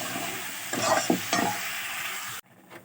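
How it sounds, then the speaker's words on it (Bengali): Flat beans and potatoes fry with spices in a pan, giving a soft continuous sizzle broken by a few scraping stirs, then cutting off abruptly near the end. "এখন মশলার সাথে শিম আলু একটু কষায় তারপর ঝোল দেব, ভালো করে কষায় দেবো"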